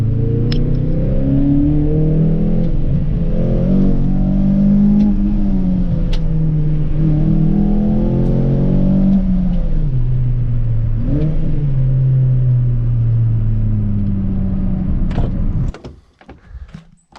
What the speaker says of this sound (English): I am really happy with how this car drives and how this car sounds.